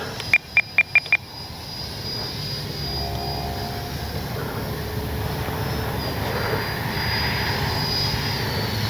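A Freewing Banshee 64mm electric ducted-fan RC jet flies toward and past, its turbine-like whine swelling steadily louder over several seconds, preceded by a few short electronic beeps from the transmitter.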